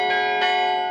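Church bells rung by hand inside a steeple, two strokes close together, loud and near, with a long ringing hum between and after.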